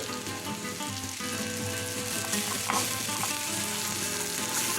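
Paella sizzling and frying in a pan while being stirred, a dense steady crackle with scraping of the mixing, close and continuous throughout.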